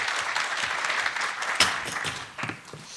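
A seated audience at a public HRD lecture contest applauds, a steady patter of clapping that thins out and fades toward the end.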